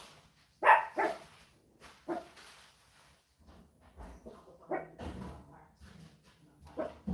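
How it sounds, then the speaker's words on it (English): A dog barks several times in short, sharp bursts with pauses between, fairly close, mixed with a few whimpers. "We've got a barking dog."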